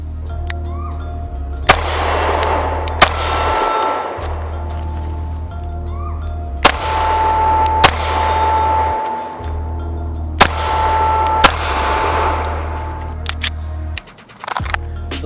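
Sharp shots ring out from an STI Staccato C pistol fired outdoors in a series of spaced single reports, each loud and crisp, followed by a brief ringing decay, with a low steady hum underneath.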